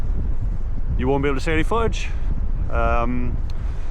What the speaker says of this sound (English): As you can hear, it's windy as hell.